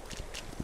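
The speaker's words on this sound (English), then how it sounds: "There are four horses here." Horse hooves clip-clop in the video game This Land Is My Land, a handful of quick, light hoofbeats in a brief run.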